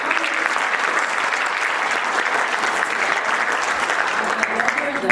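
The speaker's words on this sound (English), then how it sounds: "another round of applause for Sharon and for Dr." Steady, dense applause from an audience at a public health partner recognition ceremony, loud and continuous for several seconds with no voices over it.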